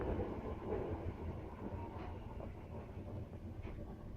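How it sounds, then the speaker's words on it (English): A train rolls past close by, a steady heavy rumble with faint rattling of the cars running through the whole stretch. "Train."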